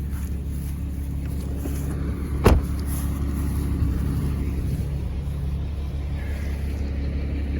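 A 2018 BMW 530i G30 pulls away just after an oil change, a steady low engine rumble with one sharp clunk early on and a faint rise in road and wind noise as it moves off.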